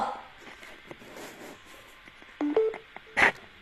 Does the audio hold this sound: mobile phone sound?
yes